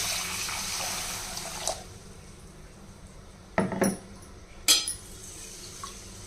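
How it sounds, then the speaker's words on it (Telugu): Roasted split moong dal is rinsed in water in a pot after cooling, with a wash of splashing and sloshing at the start, then a few sharp splashy clinks of the vessel; close by and with no talking. "చల్లారిన తర్వాత శుభ్రంగా రెండుసార్లు కడిగేయాలి"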